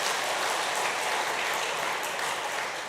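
A church congregation at a Sunday worship service claps steadily and evenly throughout, a dense wash of many hands with no voices on top.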